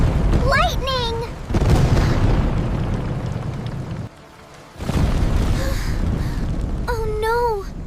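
Loud thunder booms and rumbles for several seconds, with a brief quiet gap between crashes, while a high, expressive voice is heard before and after the noise.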